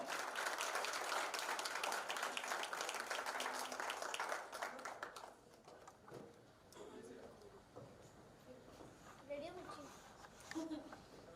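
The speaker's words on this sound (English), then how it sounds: "Huge round of applause, guys." Dense applause from a crowd fills the first few seconds, then thins into scattered claps under murmuring voices and a speaker talking.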